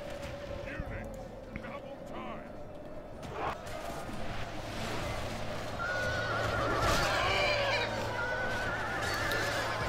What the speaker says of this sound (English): Nice horses, some of these must be big Shire horses.